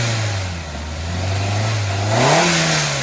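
A 2022 Swift Dzire engine idles steadily close by, then is revved, the pitch rising briefly before settling back, with no one speaking.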